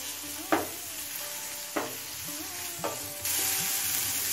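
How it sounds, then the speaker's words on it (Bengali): Onion frying in oil in a pan for a lady's finger mash, a steady close sizzle with occasional spoon scrapes and stirs, the hiss swelling louder near the end. "এবার পেঁয়াজটা হালকা লাল হয়ে আসা পর্যন্ত ভেজে নেব"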